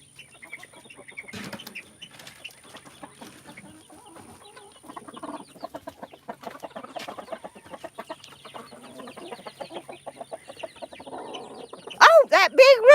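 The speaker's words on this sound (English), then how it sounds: "that big rooster's in there with him" Chickens cluck in a busy pen where a big rooster is shut in with another bird, with repeated flapping wings, close and lively throughout, louder squawking near the end and a voice briefly among them.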